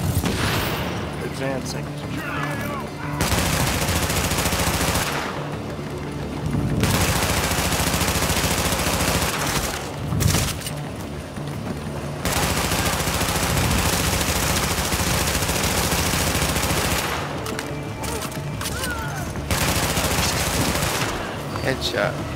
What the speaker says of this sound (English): Engaging incendiary bullets.